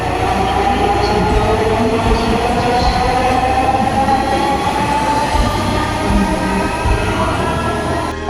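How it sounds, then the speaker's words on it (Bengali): A Dhaka metro rail train pulls away toward its next station with a steady, loud, close rumble and a whining hum that holds evenly throughout, with no talking. "ট্রেনটি তার নির্দিষ্ট নিয়ম অনুযায়ী আবার তার পরবর্তী গন্তব্যের দিকে ছুটে চলছে"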